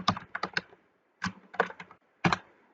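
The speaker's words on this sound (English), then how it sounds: "let's go ahead and freeform type a new name for that one" Quick bursts of computer keyboard typing as a new channel name is entered, short clusters of crisp keystrokes separated by brief pauses, close and alone with no talk.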